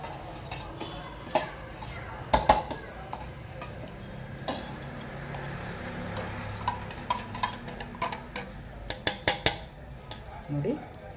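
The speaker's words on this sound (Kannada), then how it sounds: "ನೋಡಿ, ಮೊಸರು ಹಾಕ್ತಾಯಿದ್ದೀನಿ." A spoon clinks and scrapes against a bowl while curd is added to cooled, thick ragi porridge, with soft irregular taps and stirring sounds at low level, a few sharper clicks in quick clusters.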